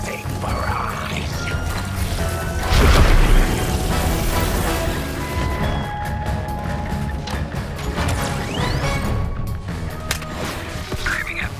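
A barrage of explosions in Suicide Squad Kill the Justice League, with a heavy boom swelling early, then rolling blasts and mechanical clatter layered with tonal game effects and a brief voice.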